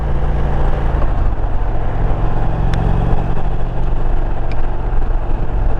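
A 2021 Indian Roadmaster motorcycle engine drones steadily while riding, a loud, continuous low rumble mixed with wind and road noise throughout.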